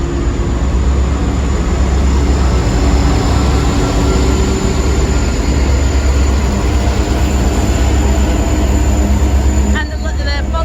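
Indian Pacific passenger train hauled by an NR class diesel locomotive passing close by, a loud sustained roar and rumble of engine and wheels throughout, with brief voices near the end.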